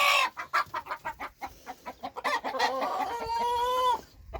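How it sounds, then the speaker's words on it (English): Roosters in a chicken coop with baby chicks, giving a rapid run of close, loud clucks and squawks that ends in a drawn-out crowing call. "the roosters are chasing you."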